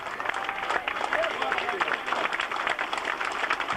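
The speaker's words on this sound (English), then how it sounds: "Would you stand and applaud them in, please?" A stadium crowd applauding steadily as Wycombe Wanderers players are brought in after the 1992/93 FA Trophy, continuous dense clapping and cheering with crowd noise throughout.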